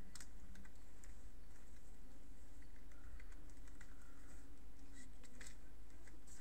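Steady rapid clatter of computer keyboard keys as code is typed into Visual Basic, close and continuous over a constant background hum, with no talk.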